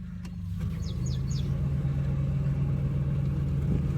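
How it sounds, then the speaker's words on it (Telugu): A 2010 Maruti 800 car engine idling with the air conditioning switched on, a steady low mechanical hum that settles and holds evenly, with faint bird chirps briefly above it and no talk. "ఏసీ అప్పుడే స్టార్ట్ అయిపోయింది."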